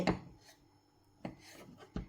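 Boiled, chilled potatoes are chopped on a board: three soft, close knife thuds spaced about a second apart in a quiet kitchen.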